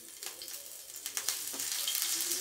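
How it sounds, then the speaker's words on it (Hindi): Chopped green chilies sizzle and crackle in hot oil with mustard seeds in a pan, a busy close frying hiss with scattered pops and stirring scrapes, no voices. "इसको भून लेंगे। और साथ ही इसमें आप डाल देंगे कटी हुई हरी मिर्च।"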